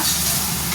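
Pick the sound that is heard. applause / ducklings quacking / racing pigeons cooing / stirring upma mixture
stirring upma mixture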